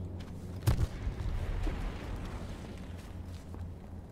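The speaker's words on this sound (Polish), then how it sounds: "Będzie wybuch." A single deep, rumbling grenade explosion in the video game H1Z1 booms with a sharp onset and then rolls into a sustained low roar, with no talking.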